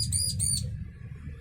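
Female bar-winged prinia (ciblek) gives a quick burst of high chattering chirps up close, then falls quiet over a low background hum.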